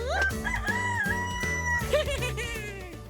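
A rooster crows loudly over bouncy, cartoonish music with a steady bass line, the crow stretched and played as a musical cue.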